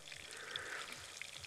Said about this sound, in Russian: Вот мы жарим.